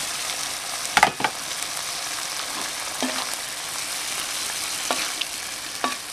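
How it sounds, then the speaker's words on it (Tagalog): Chicken pieces frying in a pan with tomatoes give a steady, close sizzle throughout, broken by a few brief clinks and stirring knocks; no talk. "Kaya ang gagawin natin, ilalagay na po natin itong ating chicken."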